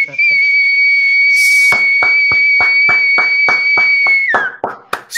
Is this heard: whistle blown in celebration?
yes